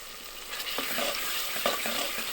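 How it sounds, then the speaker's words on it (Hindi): Spices sizzle and fry steadily in a hot pan for moong dal, with a few soft stirring scrapes, close up and continuous. "तो अच्छी तरह से भूनें।"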